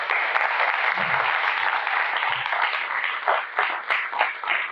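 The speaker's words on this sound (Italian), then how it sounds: "a cui intanto vorrei fare un applauso." Audience applause at an Italian gathering on good living, sociability and zero-kilometre local business, a steady dense wash of many hands clapping throughout, fairly close and even, thinning into a few louder individual claps near the end.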